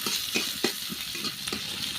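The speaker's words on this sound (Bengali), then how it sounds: "ডালটা ফোড়ন দিয়ে দিই" Dal being tempered with spices gives a steady, close sizzle, broken by quick stirring scrapes at a brisk, uneven rhythm.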